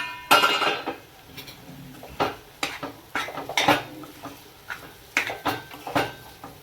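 Metal pan and utensils clatter on a stove while pineapple shira, a semolina sweet, cooks: a run of sharp clinks and scraping knocks, close and fairly quiet, repeating irregularly with no talk.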